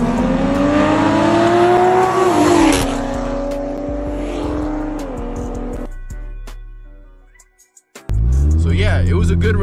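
A race car's engine revs hard and loud up close, the pitch climbing and falling through several surges, then cutting nearly to silence before roaring back.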